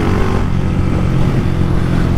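A Start 230 motorcycle engine revs hard and close, producing a loud, rough, steady mechanical roar held at high RPM without speech.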